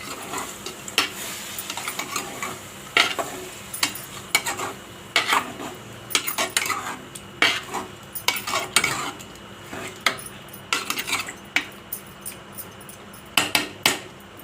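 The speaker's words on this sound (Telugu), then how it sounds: "ఇప్పుడు దీంట్లో క్లీన్ చేసి పెట్టుకున్న చికెన్ వేస్తున్నాను. దీన్ని మొత్తం ఒకసారి కలుపుకుందాం." Chicken fries in a pan for gravy with a soft background sizzle, broken by frequent sharp clinks and scrapes as a metal spoon stirs it against the pan.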